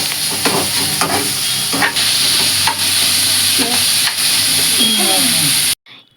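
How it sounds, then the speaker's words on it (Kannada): Chicken sizzling loudly in a pan as it is stirred, a dense frying hiss broken by periodic scraping strokes, close up with little talk, cutting out abruptly near the end. "ಫಸ್ಟ್ ಟೈಮ್ ಅಡುಗೆ ಮಾಡಿದ್ರೆ ಫ್ರೈ ಮಾಡ್ಕೊಬೇಕು ಚೆನ್ನಾಗಿ ಮತ್ತೆ ಪಿಂಕ್ ಆಗುತ್ತಾ ಬ್ರೌನ್ ಆಗುತ್ತೆ"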